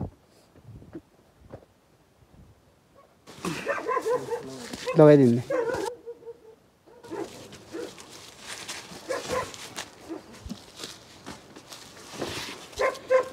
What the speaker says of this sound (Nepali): कुकुर टोक्छन् कि